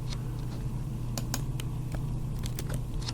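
Rapid, irregular keystrokes on a computer keyboard on a Windows machine, crisp separate clicks over a steady low hum, close and fairly quiet with no one talking.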